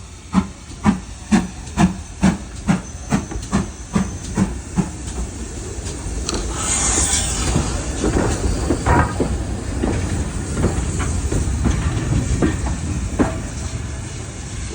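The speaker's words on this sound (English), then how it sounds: "There goes 7628, switching platforms to bring this train back to Minehead." GWR 7828 Odney Manor steam locomotive on the West Somerset Railway, opening with a series of rhythmic exhaust chuffs, then settling into a steady hiss of steam and rolling noise with occasional clanks.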